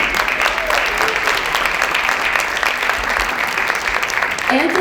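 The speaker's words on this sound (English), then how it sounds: "clap it up for her" Audience applause fills an education celebration event for Chicago Public Schools students, a steady wash of many hands clapping at full volume for the entire stretch with some crowd noise mixed in.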